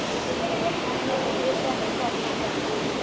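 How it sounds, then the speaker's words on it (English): An underground waterfall with a roughly 100-meter drop inside Gupteshwor Mahadev cave in Nepal roars as a dense, continuous wash of falling water, loud and steady throughout. "basically that's the waterfall"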